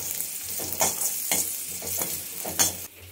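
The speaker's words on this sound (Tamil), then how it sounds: "முந்திரி திராட்சை எல்லாம் போட்டு நல்லா ஃப்ரை பண்ணி எடுத்து வச்சுக்க போகிறாங்க." Cashews and raisins fry in a pan with a soft, continuous sizzle, broken by several quick stirring scrapes, then fading slightly at the end.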